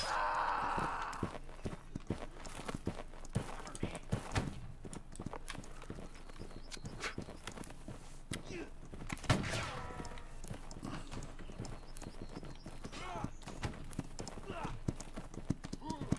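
Horse hooves clip-clop in the musket-era battle game Holdfast during a regimental private-server skirmish, a rapid rhythmic clatter running throughout under game noise and players' talk.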